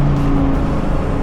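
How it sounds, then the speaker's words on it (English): Deep, steady exhaust rumble from a 2023 Dodge Challenger SRT Hellcat Jailbreak with a 717 hp supercharged engine, heard close and loud through a downshift, with a brief tonal drone early on. "The exhaust sounds good."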